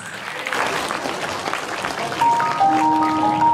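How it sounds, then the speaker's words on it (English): Audience clapping at a children's concert, a steady wash of applause from a crowd filling the whole moment, with a few brief sustained tones surfacing near the end. "Give them the biggest round of applause"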